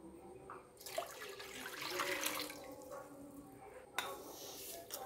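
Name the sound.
water being poured into a pot on the gas stove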